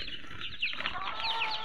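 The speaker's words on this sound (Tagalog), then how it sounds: "Mga manok po yan. Puro manok." Farm chickens calling and clucking at close range, short chirps and squawks over a busy rural backdrop.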